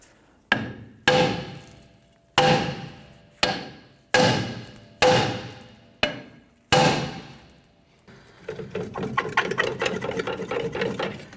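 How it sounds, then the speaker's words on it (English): Eight sharp, ringing metallic hammer blows strike at irregular intervals around the edge of a Chevrolet S10 brake drum, each echoing and decaying, followed by a rough scraping, rattling sound as the drum is pried off. "use a hammer and we're going to strike around the edge of the drum to try and loosen this up"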